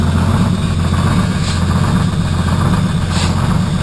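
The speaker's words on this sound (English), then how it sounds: "So while it idles itself up and warms up a little bit" A rebuilt Detroit Diesel truck engine idles steadily after a cold start, a loud continuous low rumble with a constant throb and no voices over it.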